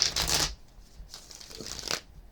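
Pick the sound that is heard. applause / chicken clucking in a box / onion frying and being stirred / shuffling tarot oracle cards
shuffling tarot oracle cards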